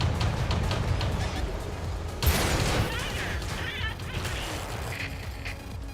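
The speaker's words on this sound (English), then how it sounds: "Someone just got ammo racked. You can tell that by the sound of that explosion." A tank's ammunition rack detonates in a tank battle game, a sudden loud crashing blast amid ongoing gunfire and combat noise, fading into continued game sounds.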